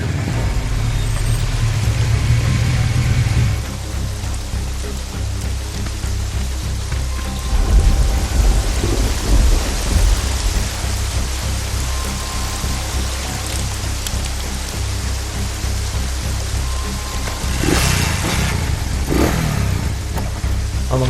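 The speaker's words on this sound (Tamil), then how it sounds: "இங்க சரியா மழை பெஞ்சிட்டு இருக்கு" Heavy rain pours steadily with rolling thunder, a loud, continuous wash of downpour that swells with deep rumbles and a sharper thunder crack near the end, with no voices.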